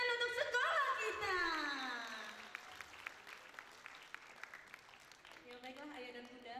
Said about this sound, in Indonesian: beri tepuk tangan untuk sekolah kita.